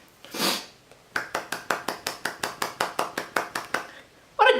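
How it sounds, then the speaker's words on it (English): One hand clapping, a quick run of about fifteen sharp, evenly spaced snaps at close range after a short breathy sound, ending with a louder burst. "I can clap with one hand."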